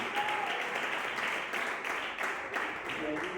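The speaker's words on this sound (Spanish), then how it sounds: "Fuertes aplausos para Dios" A church congregation in Tetuán, Madrid, claps together in a dense, sustained round of applause that stays even and fairly distant for a few seconds.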